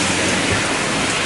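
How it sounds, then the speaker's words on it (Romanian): Heavy summer downpour with thunder and lightning nearby, a dense, steady roar of rain on surfaces filling the whole clip, loud and unbroken with no voices. "Ploaie de vară, cu fulgere, tunete, ploaie torențială"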